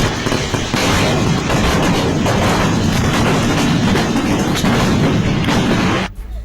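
Fireworks explode at the Puttingal temple in Kollam, Kerala, in a dense, continuous barrage of loud booms and crackling bursts that cuts off abruptly near the end.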